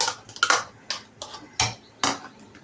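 A spoon scrapes and knocks against a pot while yogurt and spices are mixed for a cauliflower korma, sharp irregular clinks about every half second, close and clear.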